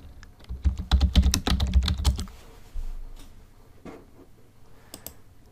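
Quick, close keystrokes clatter on a computer keyboard in a dense burst for about two seconds, then a few scattered single clicks follow in a quiet room.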